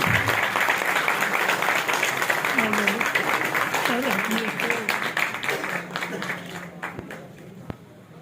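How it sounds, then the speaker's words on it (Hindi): Loud, dense applause from an audience at a Diploma Engineers' Federation gathering, sustained for several seconds before thinning toward the end, with voices audible beneath it. "आपको जोरदार तालियां दी।"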